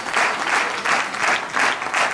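Audience applause at a corporate team-building event: a sustained, dense burst of clapping swelling in several waves, close and loud, with no talk over it.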